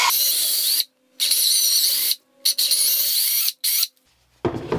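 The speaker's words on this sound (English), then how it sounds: "I'm gonna go ahead and drill the holes out for the arrows" Power drill boring arrow holes into a homemade bow quiver, a loud high whine in four bursts separated by short silent pauses.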